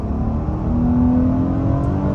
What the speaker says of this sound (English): Try out an acceleration starting off in first and really open up this beast